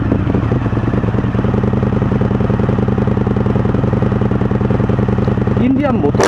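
An Indian FTR1200 motorcycle engine runs steadily at idle in neutral, a loud, throbbing low rumble that holds constant throughout, with a brief rising whine near the end.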